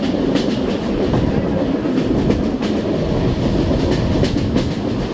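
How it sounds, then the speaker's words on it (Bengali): A train running along railway tracks in Bangladesh makes a loud, continuous rumble with rhythmic clickety-clack of wheels over rail joints, heard up close from on board without pause. "ট্রেন আবারও তার পাগলাগতে শুরু করলো"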